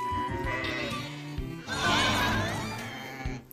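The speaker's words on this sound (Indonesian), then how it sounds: "ini induk domba." A ewe bleats loudly and close by, two long wavering cries in a row, with little else around them.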